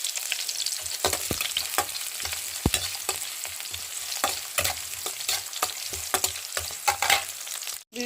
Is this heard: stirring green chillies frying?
yes